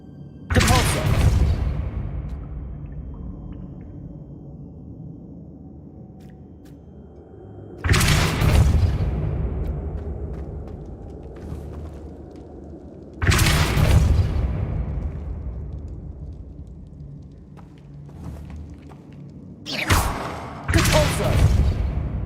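Depulso force spell in Hogwarts Legacy, four separate heavy whooshing booms spaced several seconds apart, each fading slowly, with quiet ambience between.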